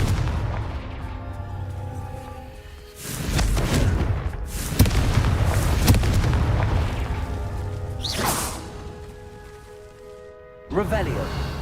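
Confringo blasting spells in Hogwarts Legacy explode in a series of deep booming bursts with rumbling tails, heavy and close, along with swishing casting sounds and a rising whoosh.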